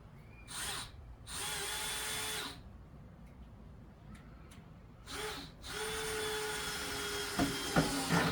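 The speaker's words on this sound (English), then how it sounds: "Now I got the drill giving me trouble." A power drill whirs in several bursts during a custom cat tower build: two short spins, a longer run, then a sustained run near the end, loud and close with no talk.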